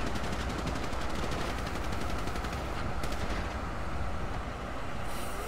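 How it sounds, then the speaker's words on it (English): Loud, unbroken automatic gunfire from a shooter video game rattles on without pause, dense and close, with overlapping bursts that form a constant roar. "They're shooting back our way, man?"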